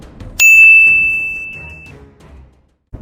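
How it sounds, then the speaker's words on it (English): A single bright notification bell ding rings out sharply and clearly, its tone lingering and slowly fading over about a second and a half, with a soft low rumble underneath. "hit that notification bell so you don't miss the next chapter of history"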